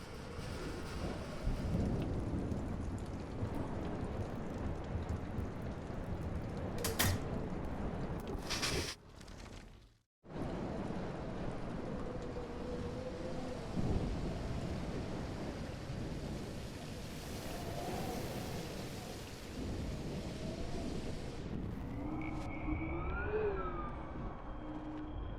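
A thunderstorm with heavy rain in the game Life Is Strange, a continuous rumbling, hissing roar that briefly drops out partway through and returns with faint tonal cries at the end.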